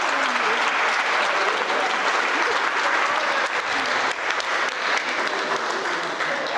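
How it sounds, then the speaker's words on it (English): Wedding guests applauding the newly married couple Maddie and Emily, a steady wash of many hands clapping at moderate distance without a break. "Keep that applause going for Maddie and Emily, everyone"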